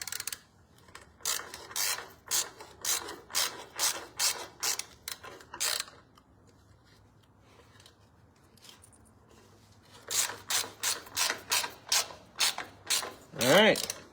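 A hand wrench walks a nut onto a threaded bolt on a boat trailer: a close, steady series of short rasping ratchet strokes in two bursts, separated by a quiet pause, with a brief voice near the end.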